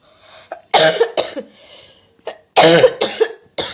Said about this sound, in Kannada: ಆಕಳಿಗೆ ಏನು ಹೊಂಟದ ಹಂಗೆ ಜೊತೆ ಕೆಮ್ಮು ಹೊಂಟದ